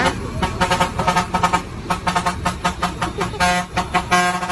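A busy street scene with repeated honking from a vehicle horn, bursts overlapping in a dense, loud mix with traffic noise and some voices.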